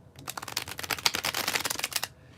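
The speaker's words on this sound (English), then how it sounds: "when I do the bridge shuffle, as I'm about to do for the Leo Collective" Tarot cards riffle together in a bridge shuffle, giving a dense run of crisp flutter and papery snapping for about two seconds that then falls silent, close and clear with no talking.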